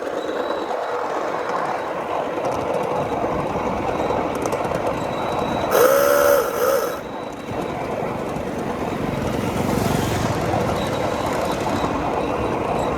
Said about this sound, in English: Train full of happy people.